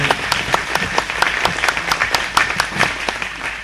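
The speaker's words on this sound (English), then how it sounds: "Please give them a round of applause." Audience applause for event sponsors at a Harris County Republican Party forum for the Texas GOP chairman race, steady clapping with sharp individual claps standing out across the crowd and no talk over it.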